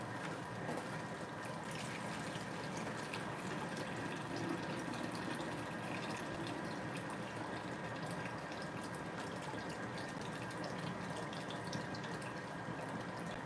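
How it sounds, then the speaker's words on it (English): Faint, continuous trickle and rush of water being drained during a corn sour mash cook, a steady low-level flow with no voices over it. "I gotta drain some of this water real quick"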